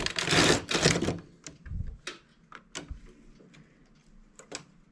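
A knitting machine's carriage runs across the bed with weights hanging below. A loud, close rattling sweep comes first, then a string of sharp mechanical clicks and ticks, and no one speaks.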